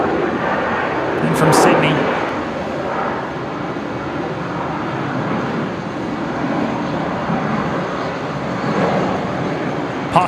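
Broad jet roar of a Qantas airliner touching down at Brisbane Airport in the evening, steady and moderately distant, with someone talking over it at the start.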